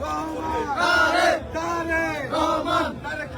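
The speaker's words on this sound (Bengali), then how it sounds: "কিছুক্ষণ পর পর কিন্তু এরকম স্লোগান" A crowd at a BNP rally chants slogans in loud, rhythmic rising and falling phrases, many voices shouting together in repeated waves, close and strong.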